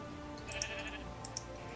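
A Minecraft sheep bleats in the video game, two quick pairs of short nasal baas over a steady background hum, close and moderately loud with no speech.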